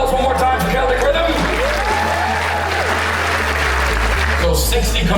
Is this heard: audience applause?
yes